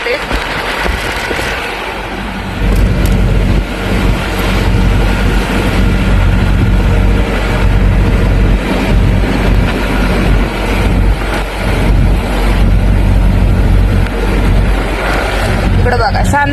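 Steady stream of vehicles rushing past on a highway toward Pune, a dense roar of engines and tyres that stays loud throughout, with someone talking over the traffic.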